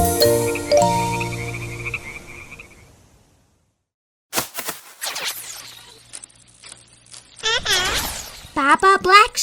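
Cartoon frog croaks in a children's nursery rhyme about green speckled frogs, following a sung melody that fades out; after a pause come bursts of croaking and splashy, bubbly sound effects at close range.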